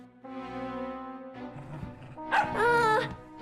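Cartoon dog from a children's animated show giving a drawn-out whimpering yip followed by sharper bark-like cries, loud and close, with no talk over it.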